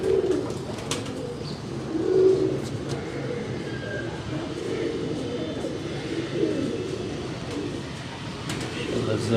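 Pigeons coo softly nearby in repeated low warbling calls, over a background hum with a few faint voices.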